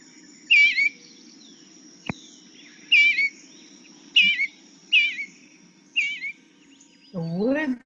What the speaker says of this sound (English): The eastern bluebird is more of a soft warble.